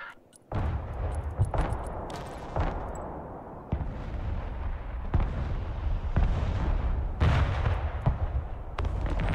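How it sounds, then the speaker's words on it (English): Artillery fire in the Broken Arrow video game: repeated booming shots roll out over about nine seconds, a sharp blast every second or so on top of a continuous dense rumble, loud and close. "Artillery ready to fire, sir."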